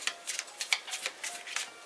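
Soft, rapid riffling of a deck of tarot cards being shuffled, several quick papery bursts close by, with no talk.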